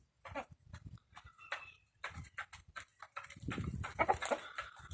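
Turkeys gobble and chatter in short, scattered calls nearby, building into a busier cluster of overlapping cries toward the end.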